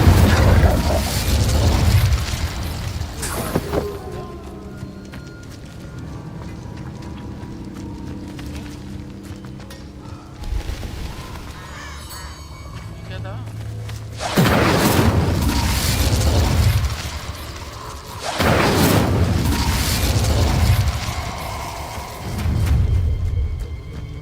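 The Incendio fire spell in Hogwarts Legacy bursts out in repeated loud booming blasts, separated by quieter rumbling stretches, with no voices heard.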